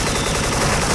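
Rapid bursts of AK-74 gunfire in the shooter game SF crackle continuously at close range, dense and loud for the whole second.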